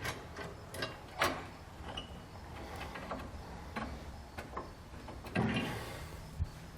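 Small metal clicks and scrapes as a nut with a lock washer and plate is threaded on by hand onto a hitch bolt at the frame rail of a 2008 vehicle, fitting a TorkLift SuperHitch receiver; quiet, irregular taps and rattles close by, no talk.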